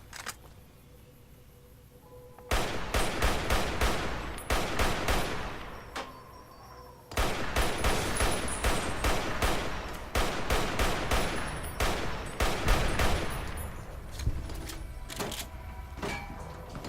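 Sustained AK rifle fire in the modded Fallout: New Vegas game, long loud bursts of rapid automatic shots from about 2.5 seconds on, broken by brief pauses and trailing into scattered single shots.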